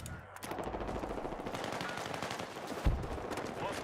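Rapid gunfire from the video game Battlefield 6 runs continuously through the whole stretch at a steady, dense level, with one sharper, louder shot near the end.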